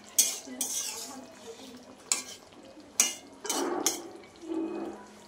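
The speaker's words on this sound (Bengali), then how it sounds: "দেখো মাছের ঝোলটা নামিয়ে নিচ্ছি।" A pot of fish curry made with boal fish is lifted off a stove, giving a few sharp clinks and scrapes of metal cookware spaced across a few seconds, close and moderately loud, with no talking.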